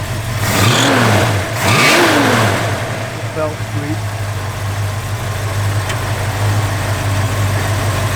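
A 1965 Ford Mustang with a Shelby style hood revs its engine twice, then settles into a steady, close idle, with someone talking briefly over it.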